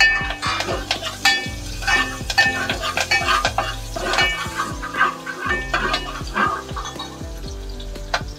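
Crushed garlic sizzles in hot oil in a pan while a spoon stirs it, giving a close, continuous frying hiss broken by repeated scraping and clinking strokes.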